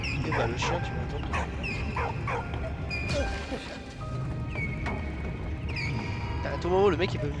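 Dog barks and yips from the World War I video game Soldats Inconnus: Mémoires de la Grande Guerre, a string of sharp, repeated barks and a whimper set over a busy game soundtrack and effects.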